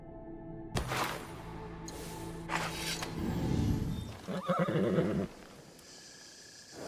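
A horse in a video game neighs loudly in a long, shaky whinny, followed by snorting and stamping sounds, with in-game ambience continuing underneath.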